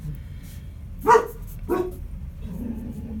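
Two sharp dog barks close by, spaced about half a second apart, followed by a faint low whine against a quiet room.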